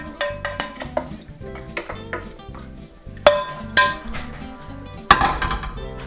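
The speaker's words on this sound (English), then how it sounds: "Give your pan a good scrape because you've got all that taste in there" A metal utensil scrapes and clinks against a cooking pan after frying chicken livers, with repeated close, sharp knocks and scraping strokes in an irregular rhythm, no talking.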